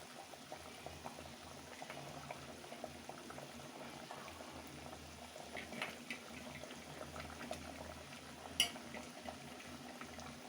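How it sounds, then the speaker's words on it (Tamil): A pot of fish curry made with sankara fish simmers at a full boil, producing a quiet, steady bubbling and popping with occasional slightly louder bursts. "பார்த்தீங்கன்னா குழம்பு நல்லா கொதிச்சு வந்துருச்சு"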